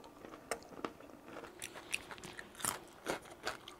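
Close, repeated crunchy bites into seasoned fried chicken with a light cheese flavour, each bite a sharp crackling snap followed by chewing, with no talking.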